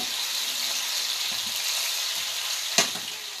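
Caramelized yellow onion and garlic sizzle in a hot pan, a steady close hiss with a sharp clink of a utensil against the pan near the end.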